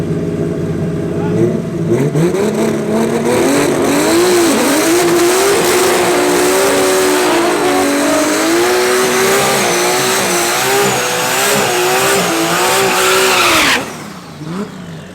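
Two race cars running a PCB class final at Tarlton International Raceway, one of them 2JZ-powered, with loud, sustained engine revving and rising, falling pitch sweeps close by, tyre squeal mixed in, cutting off abruptly near the end.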